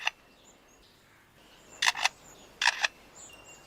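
A lyrebird mimics a camera shutter in the wild: two quick pairs of sharp mechanical clicks, close and distinct over faint background bird calls.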